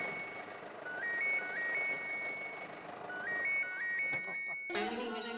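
A phone call rings over a speakerphone in a tonal, melodic pattern of rising and stepping beeps that repeats twice, faint and set against low background noise, before a brighter burst of sound at the end.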